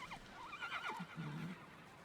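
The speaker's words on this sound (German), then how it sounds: "Ist das ein neugieriges Pferdchen?" A horse in the video game Immortals Fenyx Rising gives a wavering, high neigh, followed by a lower, huffing snort, fairly quiet and alone against a soft game backdrop.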